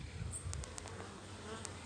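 A faint, continuous buzzing of bees recovering from insect spray, soft and steady, with no other sounds.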